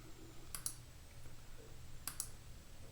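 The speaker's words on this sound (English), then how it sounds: "I'm going to right click on it" A computer mouse gives two quiet paired clicks, about a second and a half apart, each a quick double tick over faint background hum.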